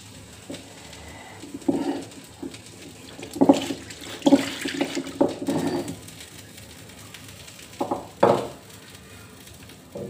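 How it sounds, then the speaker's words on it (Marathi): Water running and splashing as a stone grinding slab (pata) is rinsed clean in a home kitchen, with scrubbing and sloshing in irregular bursts over a steady background wash. No one speaks. "आपण हा पाटा धुवून घेऊ स्वच्छ."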